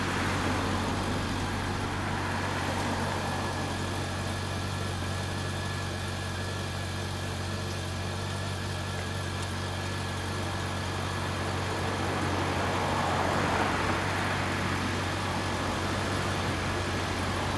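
A 2016 Honda CB400 Super Bol d'Or Hyper VTEC Revo motorcycle engine idles nearby with a steady low rumble and faint vibration, continuous and unchanging throughout.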